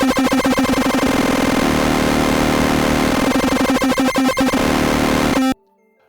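A harsh, buzzing electronic tone from a Kodamo Mask1 synthesizer, its LFO switching between discrete bit masks at audio rate, stutters rapidly between stepped textures, loud and continuous, then cuts off abruptly into silence.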